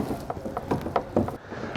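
Clamp bolt being turned on a Yakima BedRock HD truck bed rack on a 2021 Ford F-250, several soft metallic clicks and ratcheting ticks at an uneven pace, close up.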